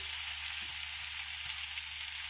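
Chilies heating in a pan with tomato for Indian-style scrambled egg, giving a steady close sizzle and frying hiss throughout.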